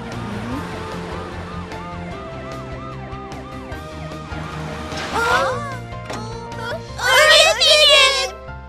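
A cartoon ambulance siren from the Tayo children's animated series wails in rising and falling sweeps, with children's voices and other cartoon sounds around it and a louder burst near the end.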